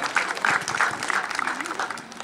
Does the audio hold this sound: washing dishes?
no